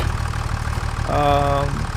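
A tractor engine idles in Farming Simulator 25, a steady low mechanical rumble with a brief tonal rise partway through, close and continuous.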